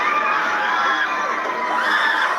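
Dense crowd noise from a Bageshwar Dham religious gathering, with overlapping shouts and screams forming a continuous, loud wash of voices throughout.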